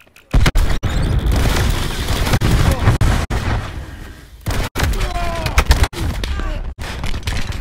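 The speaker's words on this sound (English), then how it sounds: "That's a grenade." Grenade blast amid Black Ops 4 multiplayer combat, loud booming bursts mixed with rapid gunfire and other explosions across the whole stretch, no spoken voice over it.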